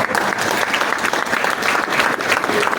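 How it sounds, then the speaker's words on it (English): A round of applause from an audience, loud, dense and continuous, with many hands clapping together throughout and no break. "So please, a round of applause for her."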